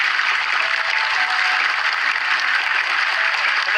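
An audience claps loudly and steadily for a contestant at a Quran memorization competition stage show, continuous applause with no pauses.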